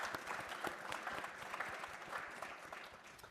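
Audience gives a round of applause during a panel talk on social media and mental health, steady scattered clapping from a modest crowd, fairly faint and without speech.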